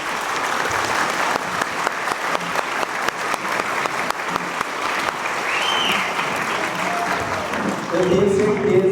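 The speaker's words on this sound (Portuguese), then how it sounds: "o Beto e a Simone estão segurando essas palmas desde o primeiro hino" A church congregation claps at a pastoral ordination service, producing sustained, dense applause close by that carries on throughout, with voices speaking over it toward the end.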